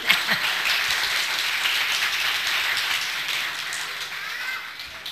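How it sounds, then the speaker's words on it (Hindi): An audience applauds Mrs Kasim at a children's storytelling session, a steady wash of clapping that sustains evenly for several seconds before thinning slightly at the end, with no talking. "तो फिर खूब सारी तालियां मिसेस कासिम के लिए।"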